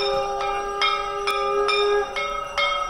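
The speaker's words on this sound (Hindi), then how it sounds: "बाहर घंटे घड़ियालों शंख की ध्वनि और अंदर आरती का दौर" Temple bells ring steadily during a Navratri aarti in Gorakhpur, struck about every half second over a sustained metallic drone, loud and close with no talk.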